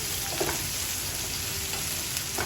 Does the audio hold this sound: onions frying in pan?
yes